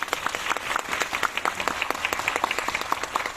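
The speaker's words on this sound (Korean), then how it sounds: "박수 부탁드립니다" A cinema audience at a director's Q&A screening claps, a lively, rapid patter of many hands with distinct individual claps standing out, steady and moderately loud throughout.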